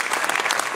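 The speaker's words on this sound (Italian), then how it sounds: "merita veramente un grande applauso" Audience applause at a public event in Milan's Palazzo delle Stelline, dense, continuous clapping from many hands, loud and close throughout the brief moment.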